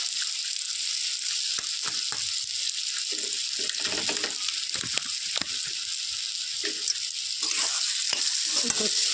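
Olive pickle with sugar and spices stirred in a pan over very low heat, a continuous bright sizzle with frequent scraping and tapping of the spoon against the pan, close and without voices.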